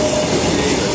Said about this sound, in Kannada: ಈಗ ಟ್ರೈನ್ ಹೋಗ್ತಾ ಇದೆ ನೋಡಿ.